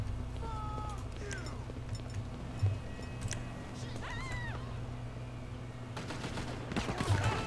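Scattered gunfire crackles in GTA 5 Online, in faint, sparse bursts under a steady low rumble of game ambience and engine hum, with a few sharper shots near the end.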